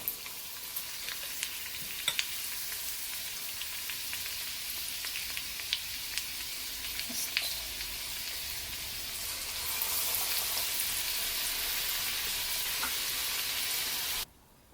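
Raw banana bajji fry in hot oil with a steady, soft, continuous sizzle and crackle that grows slightly louder partway through before cutting off abruptly at the end.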